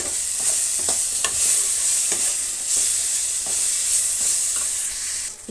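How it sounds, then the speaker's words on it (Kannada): Spice powders sizzle and fry in a pan for a rice bath dish, giving a steady bright hiss with soft stirring scrapes that recur every second or so, close up, and no talking. "ಈ ಪುಡಿಗಳೆಲ್ಲ ಒಂದು ಸ್ವಲ್ಪ ಒಂದು ನಿಮಿಷದ ಕಾಲ ಫ್ರೈ ಮಾಡಬೇಕು"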